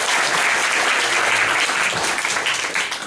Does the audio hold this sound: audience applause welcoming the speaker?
yes